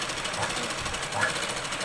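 A sewing machine stitching Punjabi dress pants gives a steady, close whirring motor hum that runs unbroken through the short stretch.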